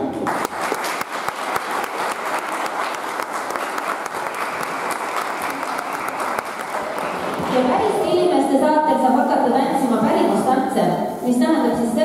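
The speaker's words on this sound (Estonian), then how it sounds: "aplaus!" Audience applause for a live folk dance band at a parliament event, a dense steady clatter of hands under a speaking voice, then music swelling in as the clapping continues.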